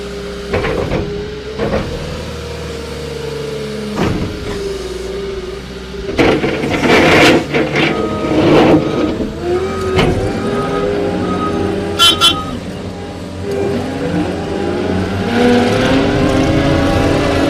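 A 2023 John Deere 331G track loader's engine cranks, starts and settles into a steady diesel rumble, then revs up and down in several swells, loud and close, with hissing and clanks.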